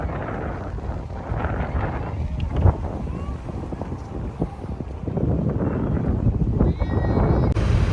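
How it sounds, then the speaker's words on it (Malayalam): Strong wind at a beach buffets the microphone in a continuous, low rumbling roar, with gusts that swell louder in the second half. "അവിടെ നല്ല കാറ്റുണ്ടായിരുന്നു"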